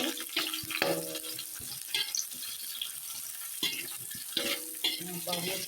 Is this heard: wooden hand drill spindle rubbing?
no